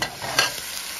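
Red snapper pieces set into a pan of hot seasoned curry masala, giving a dense, close sizzle with a brief surge partway through.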